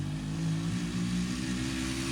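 A car engine revs hard and steadily while brake boosting, a loud, sustained, close drone with slight surges and no pauses.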